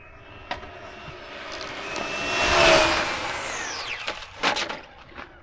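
An XO-1 RC car makes its first speed pass at about 53 mph, a high whining motor rising from a distance to a loud peak near the middle and then fading fast, with a brief sharp pitch drop as it passes.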